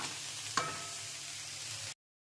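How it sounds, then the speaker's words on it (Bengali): Banana stem (thor) fries in a pan, likely as thor bhaja with prawns, giving an even, moderate sizzle with one brief click before it cuts off abruptly. "ভাজা ভাজা করছি যাতে ভালো মতন সেদ্ধটা হয়ে যায় আর জিনিসটাও ভালো মতন ভাজা হয়ে যায়"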